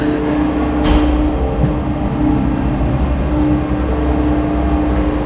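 A cable car ride in Da Lat, Vietnam, heard from inside the cabin as a steady mechanical rumble and hum with faint rattles and a brief squeak, no talking.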